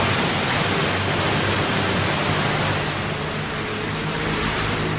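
Steady broadband roar of sea waves washing against the shore where the tide rises and falls, loud and continuous with no talk.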